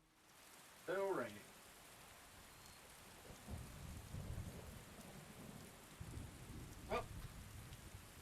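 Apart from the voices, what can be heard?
rain in the video game Skyrim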